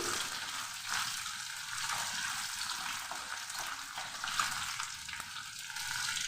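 Dried fish (shutki) and onion frying in oil, giving a steady close hiss and crackle with faint occasional stirring clinks and no voices.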